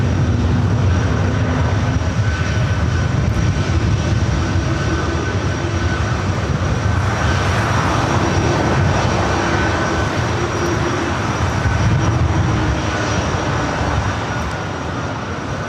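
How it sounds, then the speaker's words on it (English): A Delta Boeing 757 airliner at LAX, 22 years old, roaring continuously with a loud, broad engine rumble and a steady whine, holding strong for the whole span with no voices. "Delta 757 at 300."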